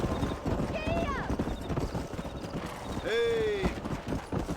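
Horses in Red Dead Redemption being driven along a canyon, with steady hoofbeats clip-clopping and two whinnies rising over the herd, while voices talk over the moving animals.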